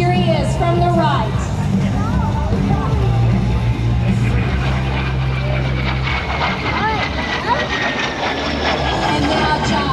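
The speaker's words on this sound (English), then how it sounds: "As Snort comes in first with the white-topped aircraft. Here he is from the right." A Morane-Saulnier MS760 jet flying past at the 2010 Boston-Portsmouth airshow gives a loud, sustained roar with a shifting whine as it passes, while an announcer talks over it.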